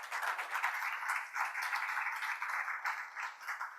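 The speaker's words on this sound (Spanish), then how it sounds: "Doctor Ernesto Cardona, un aplauso para él, por favor" An audience at a medical symposium on hypertension diagnosis claps for the coordinating doctor, producing a short burst of moderately loud, dense applause that rises and falls slightly without fading.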